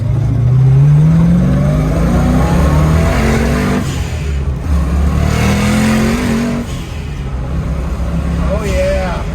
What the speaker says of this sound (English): you can't sell a twin turbo Mustang without hearing the twin turbo.